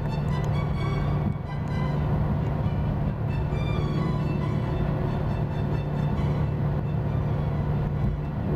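Steady, loud rumble of a highway coach cruising in Taiwan, with a continuous low drone and broadband road and rail-like roar as a Taiwan High Speed Rail train passes alongside, no voices.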